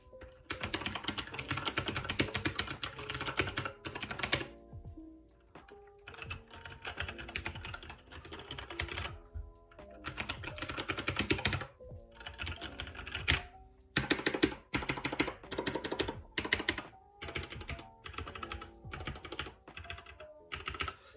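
Rapid typing on a Redragon K530 Draconic keyboard with quieter tactile switches, soft muffled clacks in bursts separated by brief pauses, close and fairly quiet.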